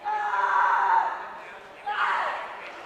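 A climber lets out loud power screams during a volume section at the 2026 USA Climbing Para Climbing National Championships, two strained yells over a faint crowd murmur.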